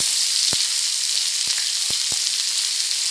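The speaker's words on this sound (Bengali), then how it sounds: "আলুগুলো সব আলুগুলো দেওয়া হবে ভেজে নেওয়া হবে" Finely chopped potatoes fry in hot oil with a steady, bright sizzle throughout, broken by a few sharp clicks of a utensil against the pan; no one speaks.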